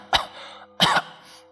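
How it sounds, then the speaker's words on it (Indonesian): Two sharp coughs, close and loud, separated by a short gap, from a person choking on thick black smoke filling a room. "aku mulai batuk-batuk."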